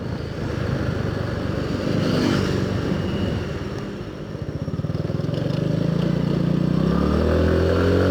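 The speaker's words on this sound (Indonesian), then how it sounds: "Ntar ada motor kencang" A motorcycle engine drones close by on a night road ride, its pitch rising and falling as it revs and accelerates, loud and continuous.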